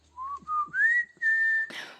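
A person whistles a short signal made of two low rising chirps and then a long sustained high tone. It is clear and alone and ends in a brief rustle.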